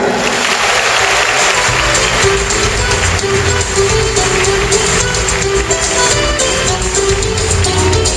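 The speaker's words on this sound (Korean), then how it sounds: "여러분 큰 박수 부탁드립니다" An audience at a lecture event claps continuously for an incoming speaker, a dense, steady wash of applause filling the whole stretch.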